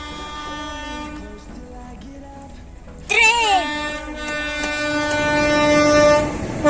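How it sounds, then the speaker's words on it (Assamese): A train approaches a closed level-crossing gate and blows a loud, sustained horn, joined by a second harmonic horn blast midway, over a rumbling rail background as it passes close by. "ট্ৰেইন আহি আছে আৰু আমি ৰখি দিলো"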